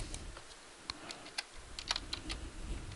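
A quick burst of close, light keystrokes on a computer keyboard while a username is typed, scattered soft clicks with a few sharper taps and no talking.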